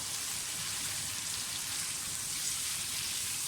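Tomatoes fry in a pot for bhunai, producing a continuous, even sizzle with a dense hiss and no pauses, moderately loud and close.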